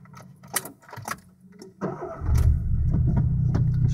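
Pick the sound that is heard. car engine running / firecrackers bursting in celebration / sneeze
car engine running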